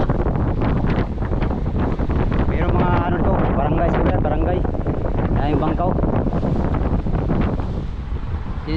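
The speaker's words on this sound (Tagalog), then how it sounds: "Lakas ng hangin dito." Strong wind keeps roaring across a boat travelling from Mindoro to Navotas, a constant heavy buffeting rumble beneath someone talking nearly the whole time.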